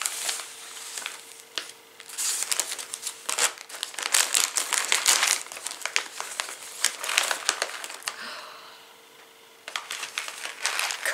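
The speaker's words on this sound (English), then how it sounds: "Cutting the present." Wrapping paper crinkles and crumples loudly as a wrapped Christmas present is cut open and torn apart, with continuous rustling bursts, a brief pause, then more crinkling near the end.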